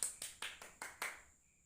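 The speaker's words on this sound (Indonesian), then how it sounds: "Beri tepuk tangan buat Muhammad Hanif." Six sharp claps at a steady rhythm in a second-grade primary school classroom, slightly echoing in the room, faint and brief with no other sound.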